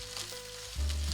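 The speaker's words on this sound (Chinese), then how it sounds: "锅中留底油，加入大蒜干。" Dried garlic hits a little leftover oil in a wok, and a quiet sizzle swells into a louder, denser frying hiss partway through the short clip.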